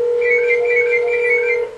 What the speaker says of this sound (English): That phone rings,